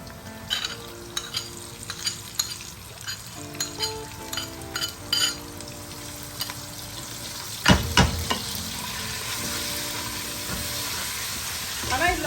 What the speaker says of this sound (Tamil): வெங்காயம் வெந்துக்கிட்டு வருது. இந்த நேரத்தில் நம்ம சால்ட்டும் இஞ்சி பூண்டு பேஸ்ட்டையும் போட்டுடலாம்.